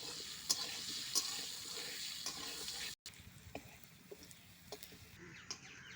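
Taro pieces fry in oil seasoned with salt and turmeric, giving a steady, quiet sizzle with scattered small pops and a brief gap midway.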